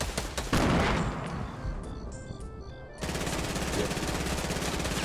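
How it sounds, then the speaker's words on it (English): Automatic gunfire bursts in the Fortnite video game come in rapid, loud rattling volleys, with a short lull before a dense, sustained stretch of shooting resumes. "Oh, I hear gunshots."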